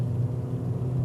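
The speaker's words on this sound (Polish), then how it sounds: "ładnie odzywa się silnik." An Opel or Renault car engine revving under acceleration on an open road, a steady low rumbling drone heard from inside the cabin.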